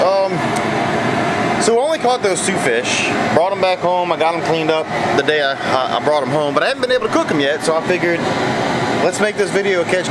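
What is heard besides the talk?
boiling pot burner running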